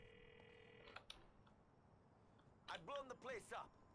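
A phone call in GTA 4 rings with a steady electronic tone for about a second, then goes quiet before voices answer, faint and in-game.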